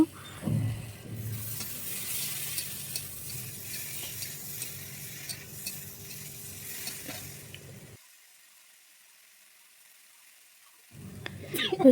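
Food frying in a covered pan with a soft, steady sizzle and a few faint clicks, close by, dropping to near silence for a few seconds before the sizzle returns.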